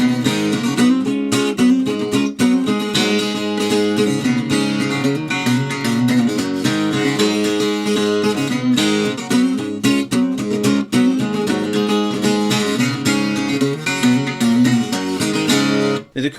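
Acoustic guitar riff, played as a lesson demonstration: busy strummed chords and picked notes at a steady, bright rhythm, close and loud throughout with no talking.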